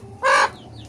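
Free-range laying hen giving a single short, loud cluck, with faint farmyard background before and after.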